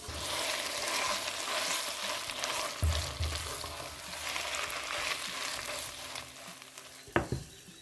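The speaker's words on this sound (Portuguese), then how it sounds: "Eu vou refogar o bacalhau com 2 dentes de alho e 3 colheres de sopa de azeite" Salt cod sautés with two cloves of garlic in three tablespoons of olive oil, giving a steady close crackling sizzle with scraping stirs throughout and a sharp clink of a utensil near the end.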